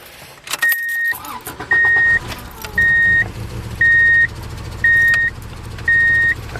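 A Subaru engine with a failing fuel pump runs rough and uneven, close by, while a sharp electronic beep repeats six times at a steady pace over the idle.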